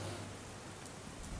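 Heavy monsoon rain in Surat, Gujarat, a brief, thick wash of steady rainfall noise with no voices.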